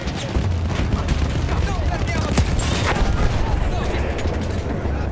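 Battlefield 1 World War I battle gunfire crackles in a dense fusillade of close and distant shots and booms throughout, loud and continuous, with a player talking over it.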